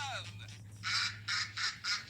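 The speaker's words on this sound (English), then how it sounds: "It's a duck." A cartoon duck sound effect from a Sesame Street name-that-sound game quacks loudly: a short opening call, then four bright, rhythmic quacks spaced evenly over a steady low hum.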